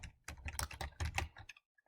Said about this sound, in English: So I just type that in,